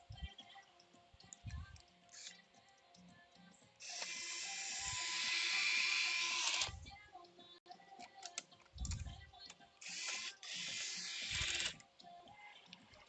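Someone tightens screws on a game console during a repair with a ratchet-style driver, which gives close, sharp bursts of rapid clicking between quieter taps and handling sounds, with no talking.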